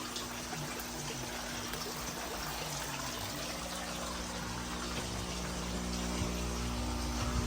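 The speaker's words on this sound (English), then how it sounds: "It will produce micro bubbles." An air pump pushes air through a Matala hose to make micro bubbles in water, giving a low, steady bubbling hiss that continues evenly with no pauses.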